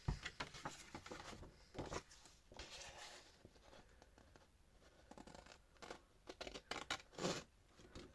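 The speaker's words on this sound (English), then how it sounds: "I'm going to cut this one off" Scissors snipping through paper or card for a Christmas craft piece, faint and close with a few irregular cuts and rustles, no talk.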